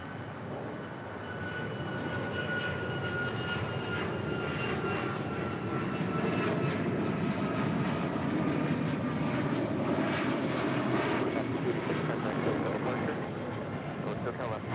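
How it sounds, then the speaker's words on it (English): A 13-year-old Airbus A330-200 jet departs LAX for Honolulu, a sustained broad engine roar that swells and holds at a distance, with voices talking over it. "This is a 13-year-old A330-200 departing to Honolulu."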